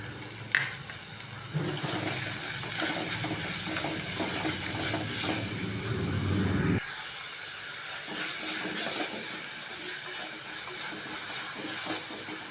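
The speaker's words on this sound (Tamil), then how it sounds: "வெங்காயம், பூண்டு, கேரட்டு, பச்சை மிளகாய் இதெல்லாம் கொஞ்சம் வதங்கட்டும்." Onion, garlic, carrot and green chili sauté in a pan for drumstick-leaf stir-fry, a steady loud sizzle and hiss with occasional stirring scrapes, continuing throughout with no talking.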